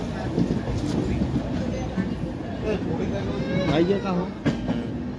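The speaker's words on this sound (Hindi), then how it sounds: "अपने पुरुषोत्तम एक्सप्रेस 24 घंटे पूरे करते हुए पहुँच रही है" Purushottam Express passenger train pulling into Puri Junction, a continuous rumbling clatter of wheels with faint squeals, heard close on the platform with people talking over it.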